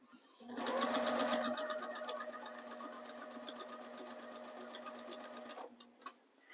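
Sewing machine stitching the binding onto a quilt: a fast, steady mechanical whir with rapid ticking that runs for about five seconds, then stops abruptly.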